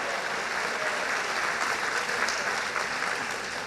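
A church congregation applauds during a worship service: steady, continuous clapping from many hands, fairly loud and even throughout, with no voice on top.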